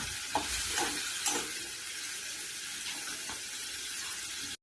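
Potatoes sauté in hot oil in a pan, giving a soft steady sizzle with a few light stirring scrapes, fairly quiet and close, with no voices.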